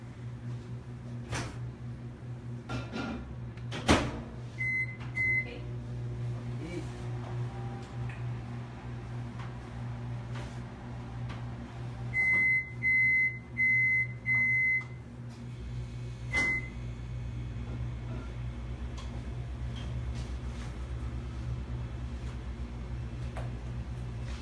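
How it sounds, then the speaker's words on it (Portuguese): A microwave oven hums steadily while chocolate bonbons are made, with several groups of high electronic beeps sounding at intervals over the running drone; no talking. "já vou para o micro-ondas de novo"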